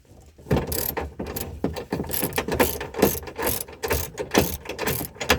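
A ratchet loosening nuts and washers on a door frame, giving rapid rhythmic clicking bursts in quick succession, close and fairly loud with no talk.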